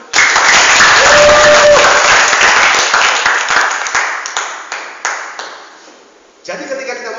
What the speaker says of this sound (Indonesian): aku nggak ada tepuk tangan nih